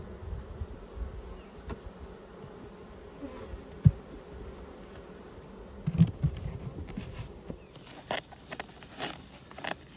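Honey bees buzz steadily around ten-frame hives at an apiary in Nymboida, a continuous low drone with a few louder close passes and faint handling knocks.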